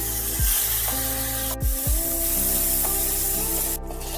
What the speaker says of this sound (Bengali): এবার কিশমিশগুলো হালকা করে ভেজে নিচ্ছি